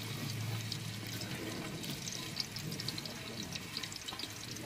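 Onion dropped into a hot pan for a village-style chicken curry cooked outdoors, giving a steady wet sizzle and hiss that runs continuously at close range with no talk over it.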